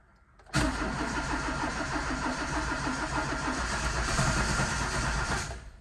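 A 1987 Chevrolet Monza SL/E cranks with the choke on and no throttle, its starter motor churning in a steady, loud, rhythmic pulse for about five seconds without the engine catching.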